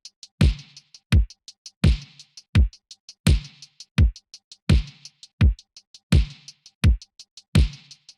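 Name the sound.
synthwave drum pattern: kick, snare and hi-hats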